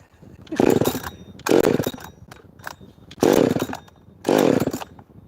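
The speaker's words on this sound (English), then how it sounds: "Use the go fast screwdriver." A fast cordless power screwdriver whirs in four loud bursts of roughly a second each, separated by short pauses, with no talking over it.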